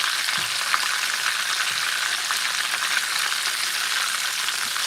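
Haitian boulet meatballs frying in hot oil, a steady dense sizzle and crackle running continuously throughout, close and fairly loud with no talking.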